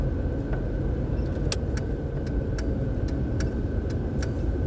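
A Mazda B2200 pickup truck cruises down the road with a steady broadband engine and road rumble, broken by a few faint ticking clicks from inside the cab.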